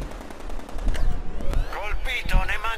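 Rapid automatic gunfire from the Batmobile in the video game Batman Arkham Knight, loud bursts with sharp shots and whooshing game effects, with someone talking over the action.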